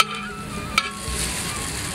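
Blended spice paste for Cirebon sega bogana hits hot oil in a wok and fries with a steady, loud sizzle and crackle. A short sharp spatter lands near the middle, and the hiss swells toward the end.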